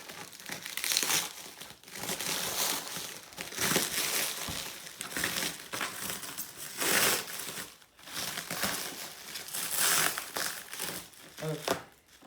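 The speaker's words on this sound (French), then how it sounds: "on arrive à la fin de cette couche de plastique" Plastic packaging wrap is peeled and crinkled while an airsoft parcel is unboxed, a continuous loud rustling and crackling with short pauses that runs throughout. Someone speaks over the noise.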